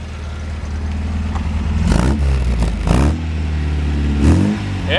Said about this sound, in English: Alrighty, we'll take a little listen to the exhaust.